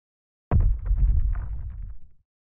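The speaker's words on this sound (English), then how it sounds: "This, coupled with a drawer sliding shut and a weaving machine recorded by a friend of mine, makes for a great mechanical lever impact sound." Designed mechanical lever impact made from a pitched-down, time-stretched rock hit: a sudden heavy thud followed by a grinding, rumbling low tail that fades out over about a second and a half, alone.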